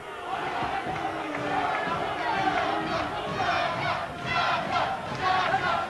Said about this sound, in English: Once again, the crowd getting behind Ayers here in the Crawley Leisure Centre.